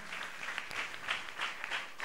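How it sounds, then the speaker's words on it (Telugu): A church congregation at a Sunday service claps in praise, producing a steady, moderately loud wash of many hands with rhythmic swells. "చప్పట్లు కొట్టి దేవుని స్తుతిద్దాం."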